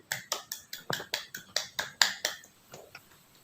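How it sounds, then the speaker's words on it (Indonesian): Schoolchildren in a classroom clap for a group of classmates, about a dozen distinct, fairly loud hand claps in a loose, quick rhythm that thins out and fades toward the end, with no voices. "Tepuk tangan untuk kelompok 1 anak-anak."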